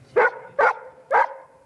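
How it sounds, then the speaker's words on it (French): A diabetes alert dog gives three loud, close barks, evenly spaced about half a second apart, with quiet between them. "Le chien a aboyé parce qu'il m'alerte."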